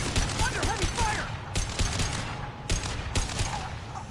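Heavy gunfire in the video game Mass Effect 2 Legendary Edition, sharp bursts and single cracks repeating every second or so over a dense, noisy battle backdrop.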